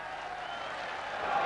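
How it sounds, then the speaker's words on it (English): A darts crowd at the 1990 BDO final between Taylor and Bristow applauds and cheers a player, producing a sustained wash of clapping that grows slightly louder toward the end. "Everybody cheering him on"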